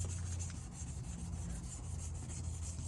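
Sanding an oxidized plastic headlight lens by hand with a Rain-X headlight restoration kit: a continuous close, gritty rubbing scrape with a steady back-and-forth texture, loud and alone.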